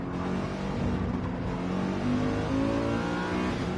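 A Corvette GT4 race car accelerating hard down a straight, its engine note climbing steadily through the revs, loud and close and alone for a few seconds.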